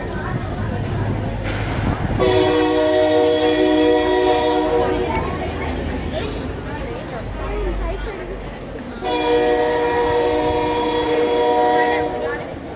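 A passenger train travels steadily, its rumble and clatter running throughout, with two long loud horn blasts sounding during the ride while voices talk over it.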